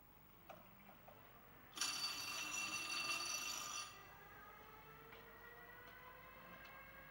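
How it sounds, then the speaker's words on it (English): A race bell rings out loud and steady for about two seconds at Dundalk Stadium to start the race, set against a quiet background with faint ticking. "So our first bell of the night sounds"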